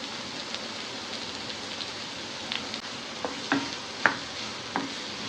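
Chopped onion and a spoonful of turmeric fry in hot oil with green chillies in a pan, a steady close sizzle with occasional crackles and small pops, no talk over it.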